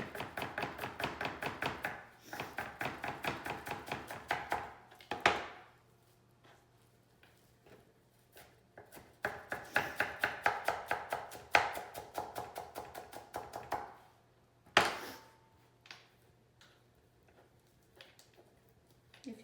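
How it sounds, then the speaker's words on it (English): Fresh parsley stems chopped finely with a knife on a board, rapid steady bursts of close, crisp knocks broken by short pauses, alone with a faint background hum. "just chop them really fine"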